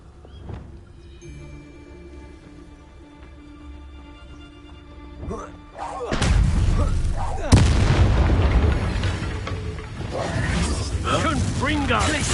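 Confringo fire spell exploding in Hogwarts Legacy, a quiet musical stretch broken by a sudden loud blast, then a second boom and a sustained roaring, crackling rumble that lingers to the end.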